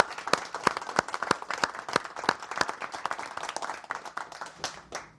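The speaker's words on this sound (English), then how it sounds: "just a round of applause for Paul Canoville being here this evening" An audience at a live Chelsea football podcast in London applauds a guest, the former Chelsea player Paul Canoville. The clapping is steady and moderately close, with sharp individual claps standing out, and it gradually thins toward the end.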